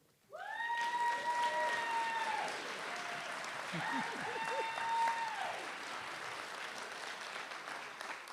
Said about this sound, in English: I'm getting all this applause today